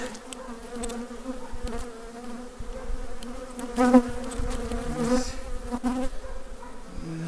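A late-season honeybee swarm hums with a dense, steady drone of many bees, close and moderately loud, swelling briefly in the middle as individual bees pass near.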